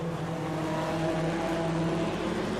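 Junior sedan race cars at Gympie Speedway roaring steadily through the hairpin, a loud continuous engine drone with no talking.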